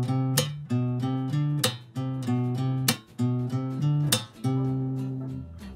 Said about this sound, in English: I always eliminated the bassline notes to be able to play the string slap technique